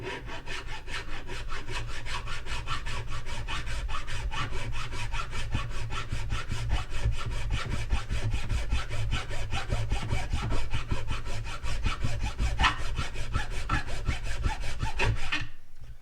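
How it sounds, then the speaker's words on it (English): A hand file rasps against a metal part for a Cadillac CTS-V in steady, rapid back-and-forth strokes, close and constant for about fifteen seconds before stopping, with no talking. "I'm gonna go ahead and grab a file and start on that"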